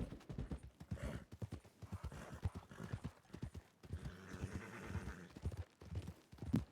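In a video game, a horse's hooves clip-clop steadily and close by, with a quick, busy rhythm that keeps going without a break for the whole stretch.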